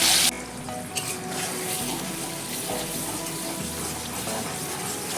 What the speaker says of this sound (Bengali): পেঁয়াজটাকে ভালো করে ভাজতে থাকবো যতক্ষণ না পেঁয়াজের কালারটা চেঞ্জ হচ্ছে